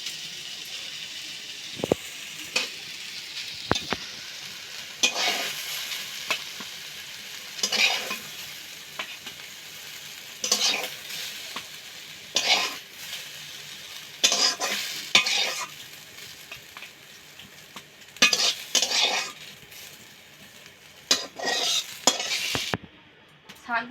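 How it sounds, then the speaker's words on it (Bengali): Panch phoron spices crackle and sizzle in hot mustard oil in a home kitchen, with a steady frying hiss broken by repeated stirring scrapes and clinks of a utensil against the pan, close up and with no talking. "সর্ষের তেল দিয়েছি, এখন 5 ফোড়ন দিয়ে দিচ্ছি।"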